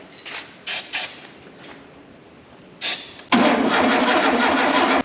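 A 1973 VW Super Beetle barn find, sitting 17 years with a rusty distributor, cranks without starting: a few short clicks and whirs, then a loud, steady rhythmic starter cranking close by, with no voices.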